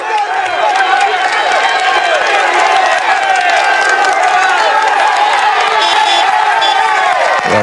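A dense roadside crowd cheers continuously as Tour de France riders climb the Col de Pailheres, with loud whoops, shouts and clapping that stay constant and near.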